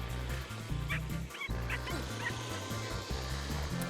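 Whippets at a lure coursing field in Abbotsford, British Columbia bark and yip excitedly over a loud rumbling outdoor din, several sharp calls coming in a quick irregular burst.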